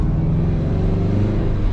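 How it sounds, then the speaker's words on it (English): Car fitted with a stock exhaust driving through a neighborhood, a steady, fairly loud low engine rumble heard close up from on board, with no talk. "now that we got the stock exhaust pack on, I say we go and we give it a little rip around the neighborhood"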